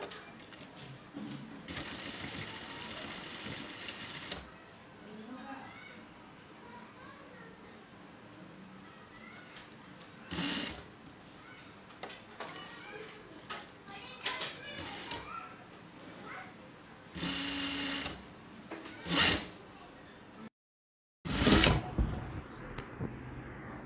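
A sewing machine stitches thread piping onto a blouse in several separate runs of rapid, rattling needle chatter. Quieter stretches with voices in the background fall between the runs.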